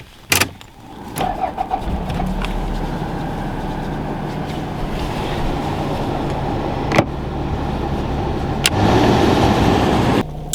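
A car engine runs at a steady idle inside the cabin on a freezing day with the heating on, a continuous low rumble broken by a few sharp thumps at the start and middle.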